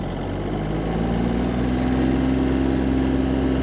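A Yanmar AF-22 Japanese mini tractor engine runs at full throttle with a loud, continuous drone whose pitch climbs gradually as the revs build, with no talk over it.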